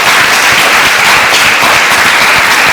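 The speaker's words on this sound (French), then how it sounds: "Et je voudrais encore une dernière fois qu'on t'applaudisse très fort." Loud, dense applause from an audience fills a café-style talk show set, an unbroken roar of many hands clapping close and steady throughout.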